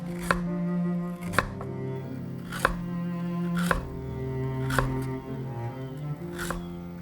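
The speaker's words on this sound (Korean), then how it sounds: "껍질을 벗긴 연근은 얇게 잘라주고" Peeled lotus root sliced thin with a knife on a cutting board, about six crisp, evenly spaced chops standing out over a low background hum, close and clear with no voices.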